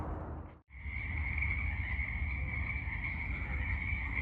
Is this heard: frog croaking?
yes